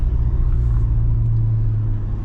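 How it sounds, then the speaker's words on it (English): Chevrolet C8 Corvette in sport mode downshifting, heard from inside the car as a steady, loud, deep engine rumble with a brief rise in pitch. "downshift sound crazy today"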